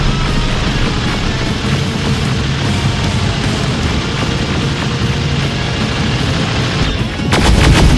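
Heavy gunfire in the Terminator: Resistance video game, a dense, continuous barrage of shots that stays loud throughout and ends in a sharper, brighter burst of rapid fire.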